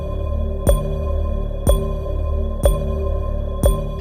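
Four tonal hits, like game show bells pitched down a couple of octaves, strike at steady one-second intervals, each a sharp low-heavy impact over a sustained droning bed, loud with no talk.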